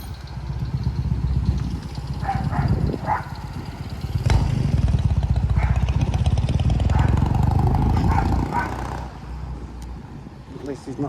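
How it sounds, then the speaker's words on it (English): A motorbike rides past on Wellington Street near Hull Marina, its engine building to a loud, close rumble mid-clip and then fading, with street noise around it. "Just wait for this bike to go past."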